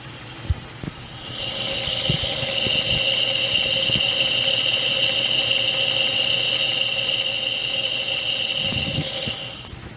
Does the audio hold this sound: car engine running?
yes